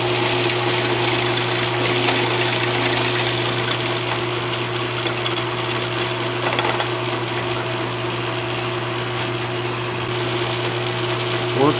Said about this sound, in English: We'll drill those holes in that pipe on this lathe.